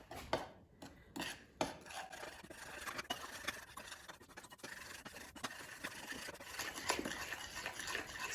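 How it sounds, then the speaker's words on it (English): A spoon stirs yellow cake mix batter in a bowl, giving a quiet run of scraping, rasping strokes against the bowl. The strokes come in uneven bursts, with a few sharper clicks mixed in, and nobody talks. "So 2 cups of cake mix, and now let's mix it until combined."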